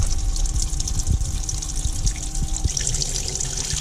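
Water drains from a small moving sink in a converted 2003 Ford Transit camper van, a steady close trickle and gurgle running continuously with faint low knocks underneath.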